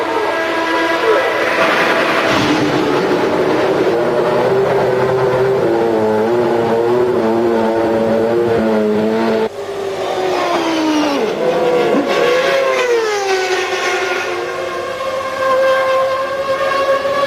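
A McLaren Formula One car running in a qualifying session, its high engine whine rising and falling through gear changes as it passes, loud and continuous with no talk.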